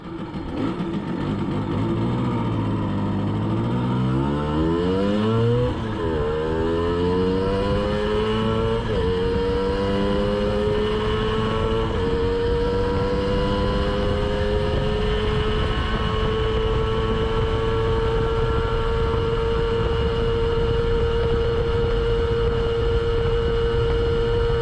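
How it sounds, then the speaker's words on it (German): A Simson S51 moped with its original cylinder accelerates hard from first through fourth gear, the loud two-stroke engine note climbing steadily, dropping at each shift and climbing again for nearly half a minute. "Schauen wir uns als nächstes die Beschleunigung vom ersten bis in den vierten Gang an."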